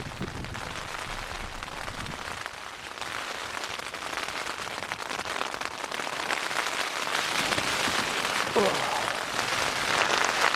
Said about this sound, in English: Don't know if you can hear that, but yeah, it's been absolutely lashing it down